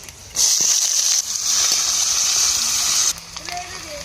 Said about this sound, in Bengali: এবার কড়ার মধ্যে আর একটু তেল দেবো, ফোড়ন করব। কুচি দিয়ে দেবো।